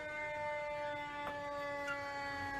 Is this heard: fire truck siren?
yes